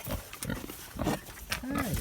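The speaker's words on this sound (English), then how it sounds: "while I feed the pigs here in the pitch black" Pigs grunting and squealing while being fed in pitch-black darkness on a maple-syrup farm, with several short bursts and a rising squeal near the end, close by and over someone talking.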